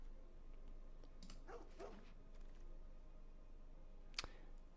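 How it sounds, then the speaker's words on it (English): A dog barks a couple of times in quick succession at a moderate distance, followed later by a sharp click, all over a low steady room hum without talking. "there's a nice dog."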